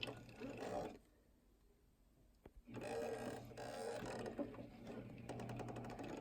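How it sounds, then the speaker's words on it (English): An industrial walking-foot sewing machine stitches a self-binding baby blanket in slow bursts of rapid mechanical clatter, pausing for a quiet stretch with a faint click before running again. "going to use our industrial machine because it has a walking foot, but you can also use a heavy-duty machine"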